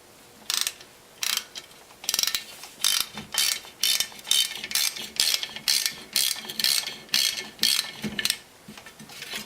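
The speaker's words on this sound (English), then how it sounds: "Now using a T40 Torx or appropriate Allen head, break loose the retaining screw off the front of the hub." A T40 Torx tool works loose the rotor retaining screw on the front hub of an E46 or E36 BMW, producing a close, loud run of quick metallic ratchet clicks in an uneven, steady rhythm with no talking.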